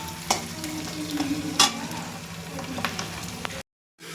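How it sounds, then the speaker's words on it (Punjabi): Onion and green chili frying in a pan, a steady sizzle broken by a few sharp stirring scrapes, with a brief silence at the end. "ਪਿਆਜ਼ ਦੇ ਨਾਲ ਸਾਡੀ ਹਰੀ ਮਿਰਚ ਵੀ ਭੁੰਨੀ ਜਾਊਗੀ"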